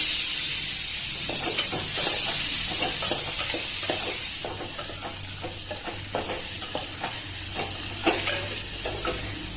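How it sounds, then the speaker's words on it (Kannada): Onions with salt and turmeric frying in a pan, a steady loud sizzle and hiss with repeated stirring scrapes throughout. "ಉಪ್ಪು ಮತ್ತು ಅರಿಶಿನ ಹಾಕಿದರೆ ಜಲ್ದಿ ಈರುಳ್ಳಿ ಫ್ರೈ ಆಗುತ್ತೆ"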